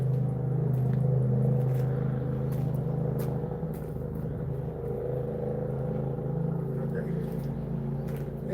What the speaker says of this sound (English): it's just a little motor in this car, just a loud one.